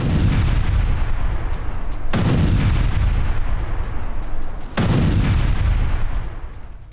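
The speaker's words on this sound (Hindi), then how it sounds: "रूसी सेना ने MSTAS होवित्जर से यूक्रेनी सेना पर हमला किया।" Russian MSTA-S self-propelled howitzer firing in a war zone, three heavy booming artillery blasts at regular intervals with rumbling echoes between, loud and close, no speech.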